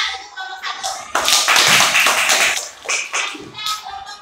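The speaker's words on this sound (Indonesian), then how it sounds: "Tepuk tangan untuk kelompok" Students in a classroom clap for a group, a burst of uneven hand clapping that swells loudly then tapers, mixed with some voices and shuffling.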